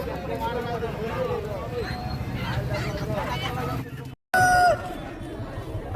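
A rooster crows at a busy chicken market in Machilipatnam. A clear crow rises near the end over a steady hubbub of crowd voices and market noise.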